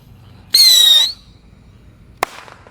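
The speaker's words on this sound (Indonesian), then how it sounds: "Di sini ada mercon roket yang paling kecil" A small firework rocket launches with a loud, sustained whistling hiss lasting about half a second, followed by a sharp crack a moment later.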